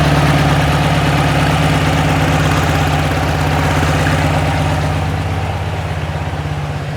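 A 1972 VW Beetle with a dual-carb engine idles low in a steady, even throb that stays close and continuous, easing slightly quieter toward the end, with no talk.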